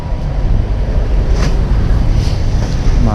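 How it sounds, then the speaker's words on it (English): Strong, steady wind roar buffets the rider of a 2009 Buell Lightning XB12Scg motorcycle on a windy day, a dense low rumble that stays constant and close throughout. "bring earplugs, because the wind noise"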